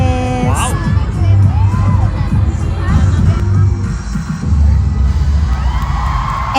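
Concert crowd of mothers, aunts and grandmothers screaming and cheering loudly and continuously, a dense roar of shouts and whoops close by.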